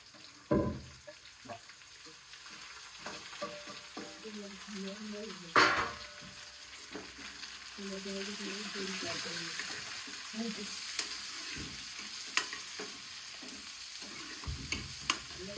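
Onions and green chilies fry in a pan as a vegetable dish cooks, a soft steady sizzle broken by scraping stirs and a few louder clanks of the utensil against the pan, heard up close.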